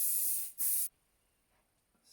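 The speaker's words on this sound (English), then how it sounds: "Spray." Hairspray misted onto fine hair being styled into a twisted updo, two loud hissing bursts back to back, the second short and abrupt, then near silence.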